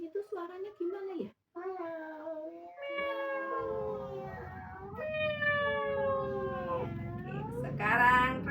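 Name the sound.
voice imitating a cat's meow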